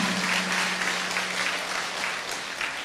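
A temple audience at a Buddhist sermon claps steadily, a dense, even patter of many hands at moderate distance with a faint low hum beneath and no speech over it.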